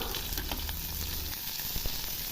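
Steady sizzling of chopped onions and spices frying in a pan, with faint stirring scrapes; continuous and fairly close, no voices.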